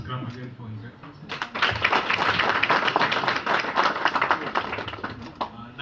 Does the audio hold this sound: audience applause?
yes